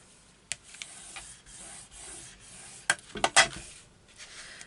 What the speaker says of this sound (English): So let me just burnish this side as well.